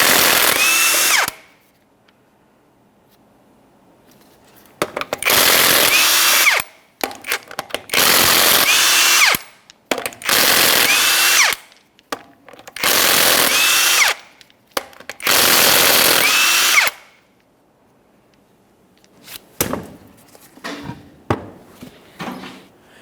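A power tool spins off the 21mm lug nuts from a 2004-2008 Ford F-150 wheel. It gives six loud, separate bursts of whirring, each lasting a second or two, with short quiet gaps and faint handling clatter between them.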